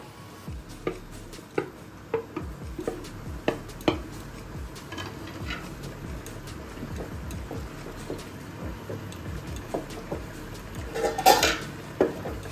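Pointed gourds (potol) tumble into a cooking pot of korma gravy in a home kitchen, giving scattered close knocks and clattering thuds over a low background, with no talking.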